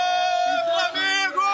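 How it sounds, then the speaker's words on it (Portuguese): Flamengo football supporters chant and cheer in a loud, sustained crowd roar with sung tonal voices rising and falling. "A gente devolve para você com a festa da torcida do Flamengo."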